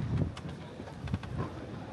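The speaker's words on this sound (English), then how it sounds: "Nice day, a little windy again." Gusty wind buffets the microphone in low rumbling bursts, with faint bird calls in the distance and no talking.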